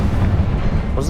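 A fiery blast from the Confringo spell in Hogwarts Legacy, heard as a loud, sustained booming roar that fills the whole second, with a brief crackling flare near the end.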